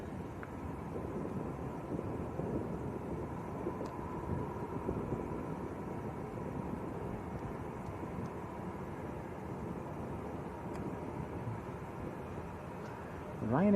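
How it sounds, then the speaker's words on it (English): A Ryanair airliner from Edinburgh on final approach to Lanzarote Arrecife Airport, about three miles out, gives a steady distant jet rumble with some wind noise. It holds at an even level throughout and swells slightly at the end. "Ryanair from Edinburgh's on finals"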